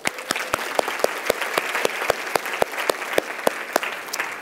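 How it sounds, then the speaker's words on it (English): Keynote audience applauding at a 2017 conference lecture on pediatric bipolar disorder, a dense steady wash of clapping with sharper individual claps standing out near the listener throughout. "I'd like to give a round of applause for Anna."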